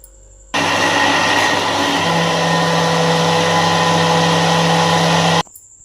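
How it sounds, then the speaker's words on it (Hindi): A mixer grinder blends mango pulp with milk and sugar in one loud, steady whir that starts abruptly, holds for about five seconds and then cuts off. "इसमें हम थोड़ा सा दूध डालेंगे ताकि मैंगो हमारे अच्छे से ग्राइंड हो जाए।"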